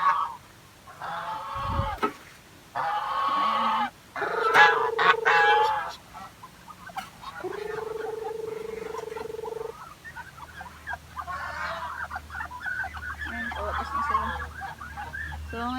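Geese honk and cackle nearby in bursts, with long drawn-out calls mixed among sharper squawks, over a quiet outdoor background.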